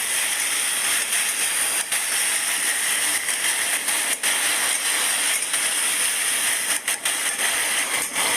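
Two chopped tomatoes frying with cinnamon in a hot pan, giving a loud, steady sizzling hiss that runs throughout, broken by faint clicks and a few short dips in level.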